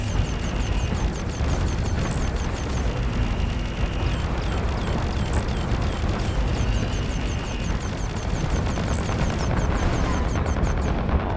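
In the Fractured Space spaceship battle game, heavy fire pours in as a continuous, loud, dense roar of rapid impacts and blasts, with steady rumbling booms layered throughout and no voices.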